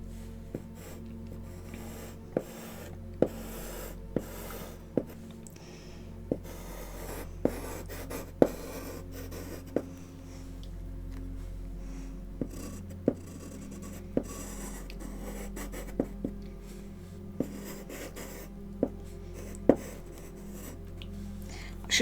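Charcoal scratches and rubs on paper in gentle strokes, a soft continuous scraping with sharp taps every second or so, close and quiet with no talking.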